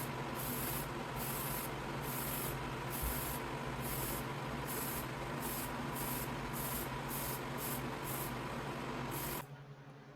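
Aerosol can of Tamiya TS13 Clear Gloss spraying clear coat onto a 1970 Plymouth Superbird model car body, a steady hissing spray in repeated short bursts, close and continuous for about nine seconds before cutting off.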